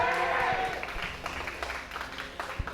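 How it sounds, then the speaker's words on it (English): FanTaSy fans in the crowd at a 2019 GSL StarCraft match cheer and clap in a short burst, the cheering loud at first and then easing off. "FanTaSy fans are cheering"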